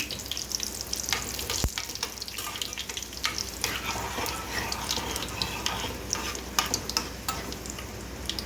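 Dried red chillies sizzle in hot oil for a Gujarati kadhi tempering, giving a steady close crackling hiss with scattered sharp pops and light stirring clicks throughout.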